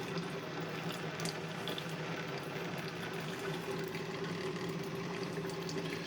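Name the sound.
Keurig K-Duo coffee maker brewing coffee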